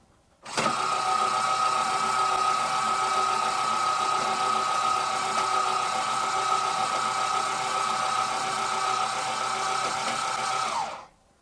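Electric landing jacks on a fifth wheel trailer running, a steady motor whine that starts abruptly, holds evenly for about ten seconds, then drops and stops.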